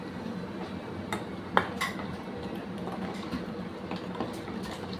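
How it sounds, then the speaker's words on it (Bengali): Spoon scraping and clinking against a bowl while poppy seed paste is mixed with spices for a hilsa fish dish, with small irregular taps at close range and one sharper clink near the start. "পোস্তটাকে একটু ভালো করে এর সাথে মিশিয়ে নিচ্ছি।"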